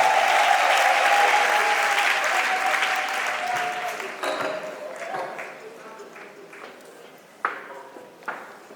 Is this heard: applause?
yes